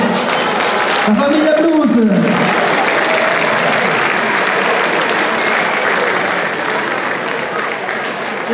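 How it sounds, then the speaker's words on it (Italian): Loud applause from an audience at a blues festival evening in Torrita, a dense wash of clapping that continues steadily while someone shouts over it at the start. "Fategli un applauso!"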